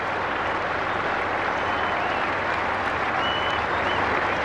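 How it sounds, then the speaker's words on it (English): A cricket crowd at Adelaide applauds Brian Lara's dismissal for 182 against Australia, with dense, sustained clapping filling the whole stretch, loud and steady. "listen to the crowd, their appreciation of such a great innings"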